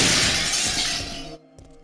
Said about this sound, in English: It's always the loud glass breaking ones that jump scare me the most